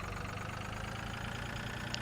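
A tractor engine in Farming Simulator 2013 runs at a steady, droning pace while pulling a load, its low rumble constant and even throughout with no voices.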